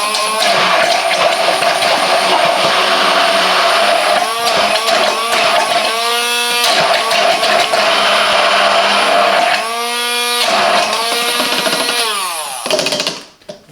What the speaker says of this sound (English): The powerful motor effortlessly blends through various ingredients, makes it perfect for smoothies, soups, sauces and more.